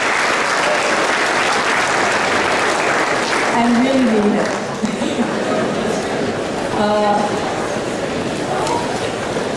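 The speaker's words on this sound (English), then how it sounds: "Give your parents a round of applause because this is their graduation too." Loud, continuous applause from a large crowd at a high school commencement as graduates honor their parents, dense and sustained throughout, with cheering voices rising briefly over it.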